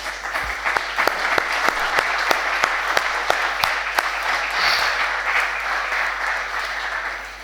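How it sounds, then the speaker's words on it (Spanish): Sustained applause from an audience at a tribute ceremony honouring a journalist's career, a dense steady patter of clapping with a few sharp individual claps standing out, continuing unbroken for several seconds before easing slightly at the end. "para el que le voy a pedir un aplauso fuerte."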